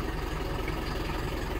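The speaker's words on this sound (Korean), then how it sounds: "엔진 소리 뭐 너무 좋죠?" A used Hyundai All New Mighty 3.5-ton wide wing-body truck with about 50,000 km on it idles steadily nearby, a low, even engine rumble with a fine rhythmic pulse and no talking.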